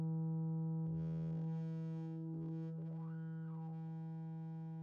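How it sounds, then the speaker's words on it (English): An Ekdahl Polygamist analog synthesizer's sine-wave oscillator holds a quiet, steady pure tone while brighter chirping tones glide up and down over it, with no voices. "So this oscillator, kind of a sine wave"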